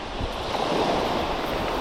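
Wind blowing along a shoreline during shrimp cast-netting at rising tide, a steady broadband rush with waves and surf mixed in, loud and continuous for the whole stretch with no voices.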